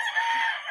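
A live rooster lets out a brief crow from the flock near a home kitchen, short, fairly clear and alone.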